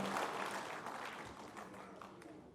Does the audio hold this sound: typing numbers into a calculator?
no